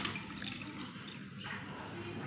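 Water pours steadily into a bowl holding a tomato and salt, a faint continuous splashing trickle lasting a couple of seconds with no voices.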